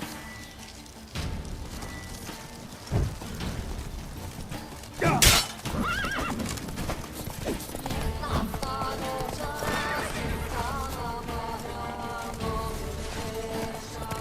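In a fantasy video game, a horse lets out a loud, sharp whinny mid-scene, with clip-clopping hooves and a couple of heavy thuds around it over a rumbling backdrop.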